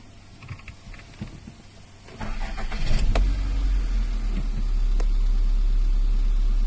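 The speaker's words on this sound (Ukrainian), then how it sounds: "двигун працює рівно, все чудово." A 2008 ZAZ Lanos car engine idles with a steady low rumble, preceded by faint clicks and brief mechanical noises, then holding an even hum to the end.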